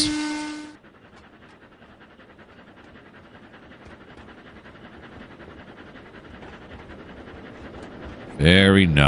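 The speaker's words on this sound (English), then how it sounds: "I really like those automatic whistle things" Automatic train whistles in the Trainz 2019 railway game: a short whistle blast at the start, then a low rolling rumble of the moving train building gradually, and a loud, longer whistle blowing again near the end.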